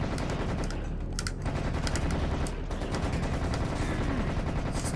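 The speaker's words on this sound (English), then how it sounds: "the scorpion is shooting me" A scorpion enemy fires on the player in the video game Serious Sam, a loud, dense, continuous hammering of gunfire with a few sharper cracks standing out above the din.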